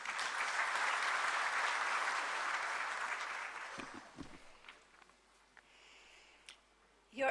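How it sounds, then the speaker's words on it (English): An audience applauds at a formal human rights event held with the President of India, with steady loud clapping for about four seconds that then thins out into scattered claps and quiet room noise. "give her a huge round of applause"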